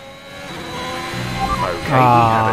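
Formula 1 race car engine in the F1 2021 game at the Chinese Grand Prix, suffering an engine fault: a tonal, buzzing drone that climbs sharply in pitch near the end and grows louder.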